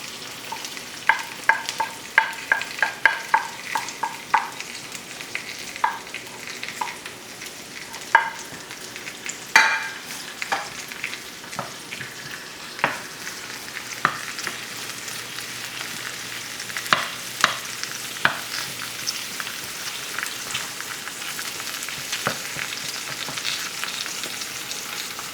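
Beech mushrooms fry in butter in a pan for a stir-fry, giving a continuous soft sizzle broken by frequent scraping and stirring clicks, close by and fairly quiet.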